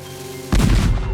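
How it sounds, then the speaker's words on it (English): A cannon fires a ball and chain with a sudden heavy boom midway, followed by a loud rushing roar that trails off, after a low steady hum. "The ball and chain shot out of the cannon okay"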